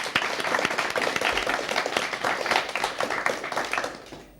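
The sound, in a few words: audience applause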